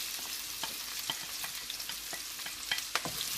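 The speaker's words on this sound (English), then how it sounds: "Fry that onions until they are like translucent, but don't brown them" Onions frying in oil in a pan for a simple fish curry, a steady soft sizzle with scattered clicks and scrapes of stirring, close and fairly quiet, no voices.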